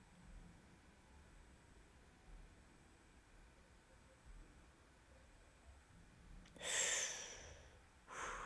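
The xenomorph in Alien: Isolation lets out a sharp, breathy sniff close by, then a second shorter snort, breaking a long stretch of quiet, low ambient hum.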